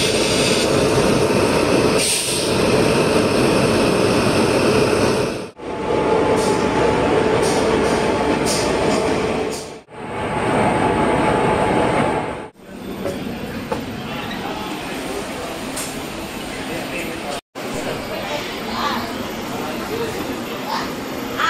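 A brand-new passenger train running from Chennai to Tirupati rumbles loudly and continuously, with wheel and carriage noise filling several back-to-back stretches. Voices are heard at times over the rolling din.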